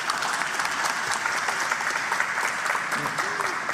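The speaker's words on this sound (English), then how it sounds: "You're getting more applause than me." An audience at a design exhibition in Manila applauds, a dense, steady clapping from a crowd that fills the room continuously, with a voice faintly heard near the end.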